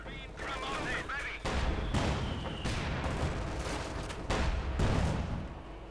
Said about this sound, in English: Bit of lighter shooting here.